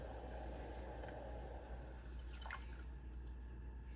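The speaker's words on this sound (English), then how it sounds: "I'm going to add in my milk or milk substitute" Milk is poured softly into a simmering pot of chai spices. A faint liquid trickle with a few small drips sits over a low steady hum.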